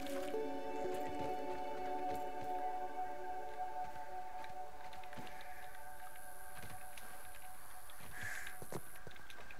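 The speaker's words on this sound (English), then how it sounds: "Go drink it. Drink the water." Water being drunk in the survival video game Grounded, with wet squishing and dripping effects over a steady bed of game music and ambience, no talking.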